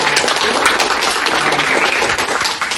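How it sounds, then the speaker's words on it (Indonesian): Classroom applause for a student named Sultan during an Islamic studies lesson on qurban and aqiqah: a steady, dense wash of clapping that holds at an even level for about three seconds. "Tepuk tangan buat Sultan."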